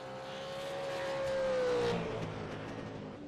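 Race cars in a Venom Series race during pit stops, an engine whine that rises and falls as a car passes by, then fades under the general circuit noise.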